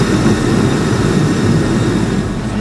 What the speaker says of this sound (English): Unthawed car with the jet engine.